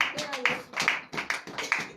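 A congregation at a morning prayer service claps in acclamation, with bursts of hand claps arriving in uneven clusters and voices calling out over them.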